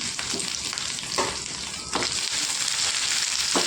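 Dried red chillies fry in oil, making a strong, steady sizzle close up, broken by several short scraping stirs of a spoon in the pan, with no talking.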